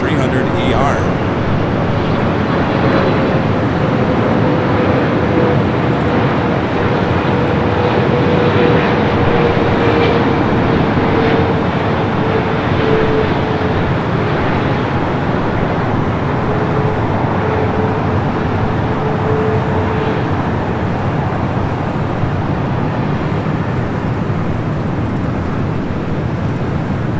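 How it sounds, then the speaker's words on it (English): A Philippine Airlines Boeing 777-300ER arriving from Manila at Los Angeles International Airport, its broad jet roar steady and loud throughout with a faint whining tone gliding slowly downward. "Flight 102 coming up from Manila, this 777 at 300 ER."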